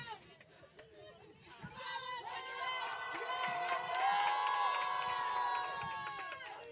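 Spectators at a softball game cheer and shout enthusiastically from a distance, a sustained swell of voices and chatter that builds and holds, with a commentator talking over the start.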